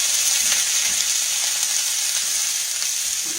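Squash and red peppers frying in a pan, a steady bright sizzle with soft occasional stirring scrapes, close and continuous with no talking.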